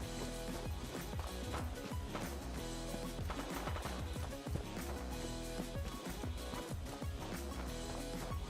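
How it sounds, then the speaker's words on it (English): Rapid bursts of Fallout 4 gunfire, automatic weapons rattling over a dense, steady background of game music and effects. "I heard gunfire here."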